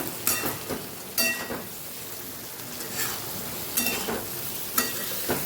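Stuffed okra with masala being stirred in a pan, a steady soft sizzle broken by several sharp scraping stir strokes at irregular intervals, close and moderately loud with no talking.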